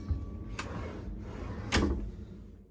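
Drawers in a cruise ship cabin dresser slide open and shut with two sharp wooden knocks, the second louder. A low room hum continues beneath them.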